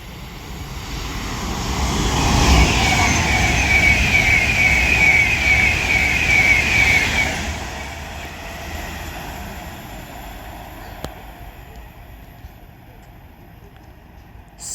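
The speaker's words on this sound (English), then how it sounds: "Now passing through is going to be yet again another Avanti West Coast Class 390 Pendolino for London Euston" An Avanti West Coast Class 390 Pendolino electric train speeds through Lichfield Trent Valley station bound for London Euston, a loud rushing roar with a high whine that swells, holds for several seconds, then fades away.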